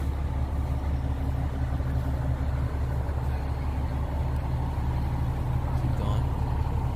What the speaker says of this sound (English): there's a fire truck right there